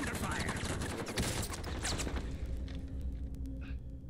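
Rapid bursts of automatic gunfire in a video game firefight, dense and loud for the first couple of seconds, then thinning into scattered distant shots and sharp cracks.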